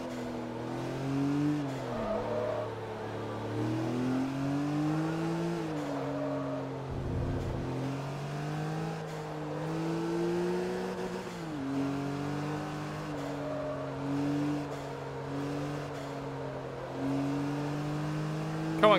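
Race car engine from Forza Motorsport 3, a Ferrari versus Porsche race, droning steadily with rising and falling revs as the car accelerates, shifts and brakes through corners, loud and continuous with no talk.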